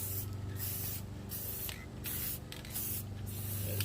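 Aerosol spray paint hissing onto a factory car wheel rim in short bursts, several near, even sprays separated by brief pauses.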